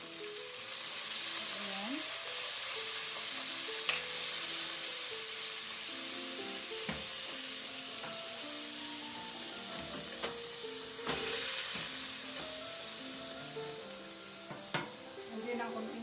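Vinegar poured into a pan of frying tuna steak raises a loud burst of steamy sizzling that keeps hissing steadily up close, with scattered utensil clicks and a brief spoken word.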